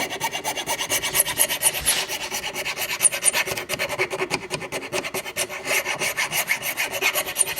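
A hand file rasps back and forth across a bone nut for a handmade instrument, shaping it in steady, rhythmic strokes that sound close and scratchy, with occasional faint high clicks.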